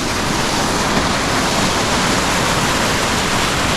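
A rushing river beside a muddy trail on the trek to Rasol village in the Parvati Valley makes a loud, steady roar of churning water that fills the scene with no voices.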